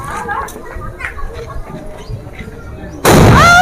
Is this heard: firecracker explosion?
yes